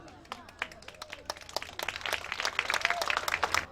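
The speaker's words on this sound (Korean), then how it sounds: "박수 보내주세요" Scattered audience clapping at an award ceremony during a beach song festival, starting sparse and building into fuller applause toward the end.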